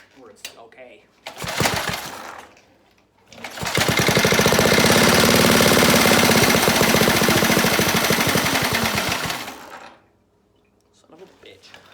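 A go-kart's two-stroke engine sputters briefly, then runs loud and buzzing with a rapid, steady rattle for several seconds before cutting out to near silence.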